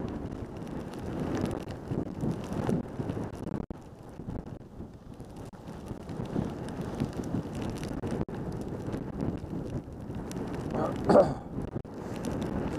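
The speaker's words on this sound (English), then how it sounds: "The wind is howling up here." Wind roaring across the Black Bear ski slope on a mountain in fresh snow, a steady broadband rush that holds loud and unbroken for the whole stretch with a few sharper gusts toward the end.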